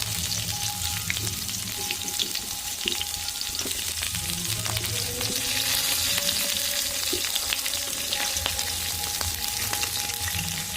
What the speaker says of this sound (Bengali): এবার আমি দিয়ে দেবো একসাথে সবজিগুলো। দিয়ে দিচ্ছি ডাঁটা